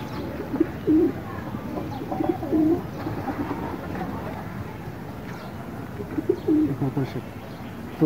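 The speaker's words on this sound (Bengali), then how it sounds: "খুবই সুন্দর একটা কবুতর।" Racing pigeons in a loft give low, rolling coos in several short bursts over a steady background murmur, fairly close and moderately loud.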